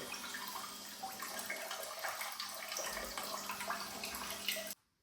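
A heated smart bidet toilet seat sprays warm water in its self-cleaning cycle, a steady close hiss and trickle of water lasting several seconds before stopping abruptly.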